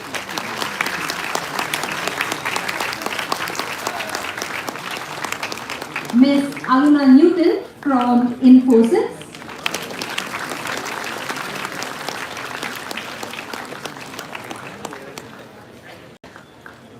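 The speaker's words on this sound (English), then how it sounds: "can you please welcome them with a round of applause as they walk up" Audience applause greets panelists walking up at a live business school event, sustained clapping across the hall while an announcer's voice introduces names over it.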